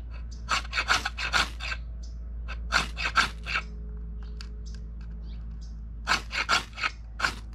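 Fatwood being scraped into thin shavings, heard as quick clustered bursts of dry raspy strokes in three separate groups with short pauses between them, close and fairly loud, with no voices.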